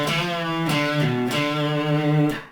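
A guitar solo lick from a song, with a sustained note bent up a half step and back down, a slightly overdriven tone, and a few picked note changes, heard up close with no voices.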